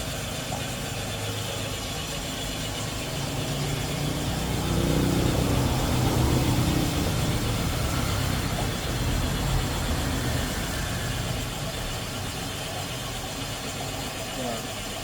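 Cylinder boring machine cutting an oversize 0.75 mm bore in a Honda Grand motorcycle block at a workshop, a steady droning motor hum that swells slightly midway, running continuously.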